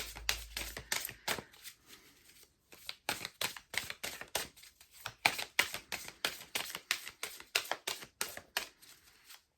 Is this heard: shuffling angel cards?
yes